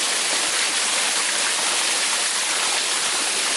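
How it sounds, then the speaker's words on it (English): A waterfall and stream on a coastal walking path between Lynmouth and Combe Martin, a steady, even rush of falling water with no voices over it. "I'm a sucker for a waterfall."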